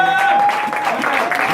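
A church congregation applauds and cheers in acclamation during an evening service, sustained clapping mixed with raised voices and a held tonal note at the start.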